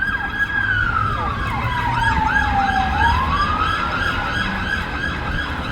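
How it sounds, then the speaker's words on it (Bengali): A police car races along a London street in Hounslow, its siren wailing and sweeping up and down in pitch over steady traffic noise, loud and close as it passes. "পুলিশের গাড়ি যাচ্ছে সাইরেন মারতে মারতে"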